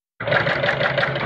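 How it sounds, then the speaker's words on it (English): A sewing machine stitches welt, or beading, onto a boat cooler seat cushion, running steadily and continuously at close range after a brief silence, with no talking. "This is just sewing on the welt."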